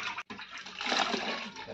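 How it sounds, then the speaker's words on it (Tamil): Water splashes and gushes steadily for a moment after a brief pause, close by, as water is poured into tomato chutney in a kitchen. "தண்ணி இப்போ தேவையான ஊற்றிங்க."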